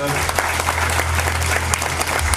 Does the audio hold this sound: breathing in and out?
no